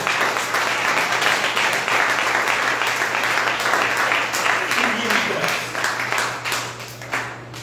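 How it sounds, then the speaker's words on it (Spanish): A church congregation applauds during a Spanish-language sermon, sustained dense clapping for several seconds with a low steady hum beneath and some voices mixed in. "¿Por qué no le da un aplauso a mi Señor?"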